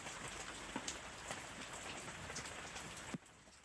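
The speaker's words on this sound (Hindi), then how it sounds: "बाहर बारिश की टिप-टिप" Steady rain patters on a surface with scattered drop taps, a soft continuous hiss that drops away abruptly near the end.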